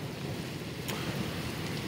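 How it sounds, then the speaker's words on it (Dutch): Steady heavy rain during a thunderstorm in Zuidwolde, a dense continuous hiss with a deep low rumble of thunder underneath and a brief sharper crackle partway through. "Onweer."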